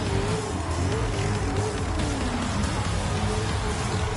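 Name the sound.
race cars revving engines before race start, GT Sport video game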